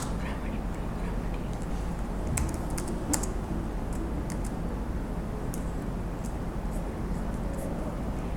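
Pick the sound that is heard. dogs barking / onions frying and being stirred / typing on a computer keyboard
typing on a computer keyboard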